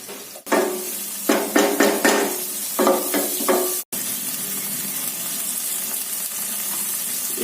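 Onions fry in a hot pan with a steady broadband sizzle, broken early by several short stirring bursts and a brief pause near the middle before the hiss resumes continuously, close and fairly loud.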